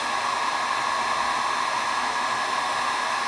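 Steady, even rush of a hot air gun held a few inches from acrylic tubing to heat it for bending, a constant blowing hiss with no breaks.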